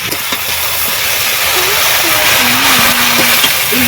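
Chopped vegetables drop into a pan of frying shrimp and onion, setting off a loud, continuous sizzling hiss close by, with a voice briefly heard over it.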